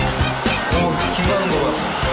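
A hair dryer blows hot air to heat water, giving a loud, steady whir close by while people talk over it.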